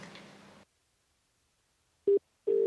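A phone line after dialing in an Indian crime drama: a burst of noise cuts to silence, then two loud, steady telephone tones sound, the second one longer.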